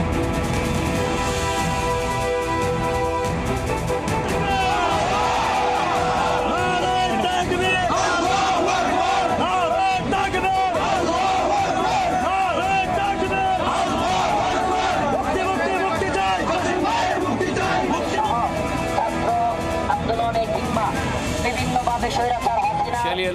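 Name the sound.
crowd gathered outside Kasimpur jail demanding prisoners' release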